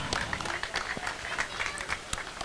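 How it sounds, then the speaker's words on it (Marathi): Scattered clapping from a small crowd at a local cricket semi-final match, a brief patter of applause for bowler Akash Gurav, moderately close with background murmur. "आकाश गुरवची बॉलिंग आवडल्याचं टाळ्या वाजवा."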